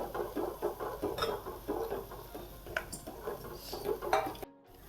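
Masala being mixed in a pan for matki bhaji, a spoon scraping and clinking against the metal in a quick, steady rhythm, close and moderately quiet, stopping abruptly at the end.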